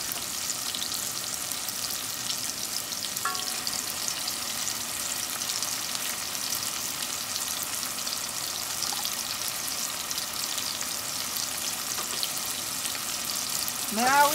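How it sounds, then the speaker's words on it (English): Minced garlic frying in a pan for a cornmeal and black bean dish, a steady close sizzle that holds evenly throughout with no talk over it. "Now we're gonna let it fry until it gets translucent."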